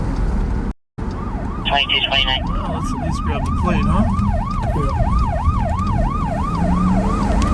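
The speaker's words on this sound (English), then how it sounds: "That's the sound of the police." A sheriff's unmarked police car siren wails in a rapid rising-and-falling yelp, loud and close from inside the vehicle after a brief dropout, with an officer talking over it.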